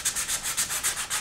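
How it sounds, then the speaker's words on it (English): A Stratocaster guitar neck is sanded by hand with 120 grit sandpaper, about eight quick, even back-and-forth rasping strokes close up, with no talking. "So it's time to start sanding it. So I've just got some 120 grit here."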